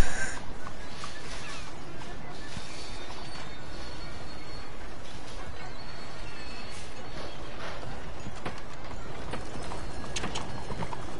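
Horse hooves clip-clop steadily in Red Dead Redemption 2, a continuous rhythmic beat mixed into a dense, constant game soundscape at moderate loudness, with no voices over it.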